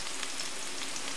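Onion and red pepper sizzle in a hot wok, a dense, steady hiss of frying, close and continuous with no voices.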